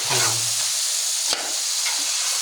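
Fish curry pieces stirred in a pan, a broad steady sizzling hiss close up with a sharp click of the spoon midway and a faint low murmur at the start.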